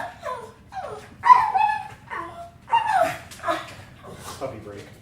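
A puppy whimpers and yips in a series of short, high, close cries, with a few breathy whines between them and light background talk.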